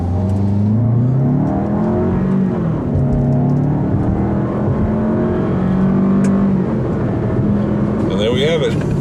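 A 2015 Lexus NX200t turbo accelerates hard from a standstill, its engine rising steadily in pitch through the gears and staying loud and close throughout, with a driver talking over it.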